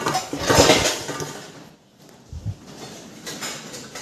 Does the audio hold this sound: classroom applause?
no